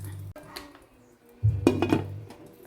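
A metal pot lid clanks down onto a pan with a couple of sharp clinks, loud and close, after a quiet moment.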